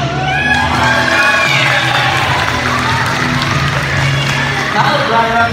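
A crowd's cheering section at an International Day 2019 event at Santa Familia, Dale City, whoops and shouts with scattered applause and children's voices, loud and close throughout.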